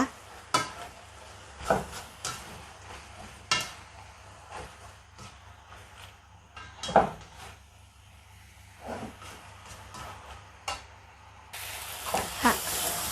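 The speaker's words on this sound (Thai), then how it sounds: "ชอบผักนิ่มก็ผัดนานนิดนึงนะคะ" Glass noodles with tofu skin, lily flowers, wood ear mushrooms, tomato and vegetables stir-fried in a pan: a steady soft sizzling hiss with a spatula scraping and clacking against the pan every second or two, no voices.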